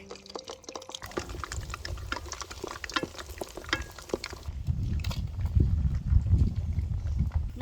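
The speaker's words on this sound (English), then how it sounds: "I wait for the oil to be hot Okay now I put the pork leg" Pork leg lowered into hot oil for Thai-style frying after being boiled in beer, giving a steady bubbling sizzle that swells louder and denser in the second half, with clinks and stirring noises on top.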